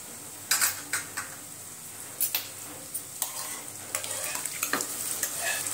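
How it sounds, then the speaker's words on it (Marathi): Spices for pav bhaji sauté in a pan: a spoon scrapes and clacks against the metal in quick irregular bursts over a continuous close sizzle, with no talking. "सर्व मसाले आपण परतून घेऊ"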